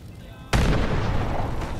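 A grenade goes off in Fallout 76 with a sudden loud boom after a quieter half-second lead-in, followed by a sustained rumbling, crackling tail that stays strong to the end.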